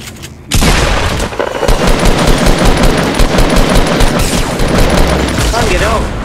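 Rapid automatic gunfire in a Fortnite match, loud and sustained bursts crackling almost continuously for several seconds with booming hits mixed in; players talk over the shooting.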